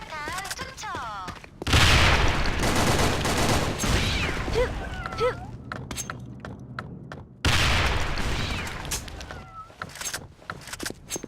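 Gunfire and grenade blasts in a shooter video game: dense rattling volleys that burst in loudly twice, separated by stretches of lighter firing and a brief in-game voice.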